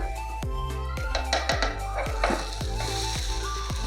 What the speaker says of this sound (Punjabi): ਹੁਣ ਆਪਾਂ ਦੂਜੇ ਪਾਸੇ ਜਿਹੜਾ ਇਹ ਡੋਸੇ ਨੂੰ ਆਪਾਂ ਪਕਾ ਲੈਣਾ ਤੇ ਗੈਸ ਆਪਾਂ ਮੀਡੀਅਮ 'ਚ ਰੱਖਾਂਗੇ